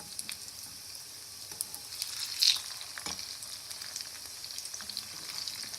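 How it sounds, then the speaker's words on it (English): Rice cutlets fry in a pan over a medium flame, giving a steady close sizzle and crackle with small pops and one brief louder burst of spitting oil partway through. "let them fry golden brown on each side"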